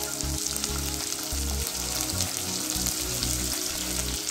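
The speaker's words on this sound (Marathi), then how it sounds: "थोडंसं लालसर होईपर्यंत फ्राय करायचं आहे फक्त।" Food fries in a pan with a loud, continuous sizzle that goes on without a break, and a low bubbling rumble pulses underneath. There is no talking.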